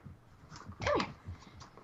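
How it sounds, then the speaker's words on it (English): A puppy in The Sims 3 video game gives a single short, quavering whimper, fairly faint over quiet background noise. "What a puppy!"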